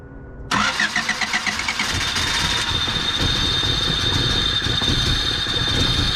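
A Honda car engine starts abruptly and settles into a steady, loud, close idle with a slightly uneven low rumble and faint pulsing rev surges, no voices over it.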